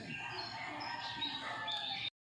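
Several birds chirp outdoors in a steady, lively mix, with repeated high calls and a rooster-like crow among them, all carrying on until the sound cuts out near the end.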